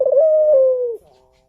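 A single close, clear coo from a dove (burung puter), one smooth sustained note that fades out after about a second.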